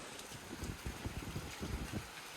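Gusty, strong wind shaking trees, buffeting the microphone in low rumbling bursts, fairly faint and unsteady, as rain arrives in a village.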